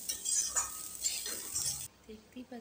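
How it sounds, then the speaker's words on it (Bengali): Cooked rice and scrambled egg are stirred together in a pan with a soft sizzle, the scraping lasting nearly two seconds before fading into quieter light clinks of the utensil. "দিয়ে আবারও ভাত ডিম একসাথে ভালোভাবে মিশিয়ে নিতে হবে"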